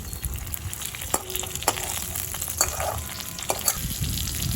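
Stuffed flat beans (shim) sizzle steadily in a frying pan, a close, even hiss with several distinct clicks and taps from a spatula at irregular moments, no voices.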